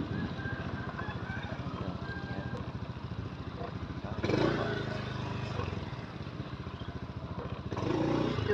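A motorcycle engine runs in El Nido, a steady close putter with a rough, throbbing idle that swells louder twice as the throttle opens, continuous under faint wind.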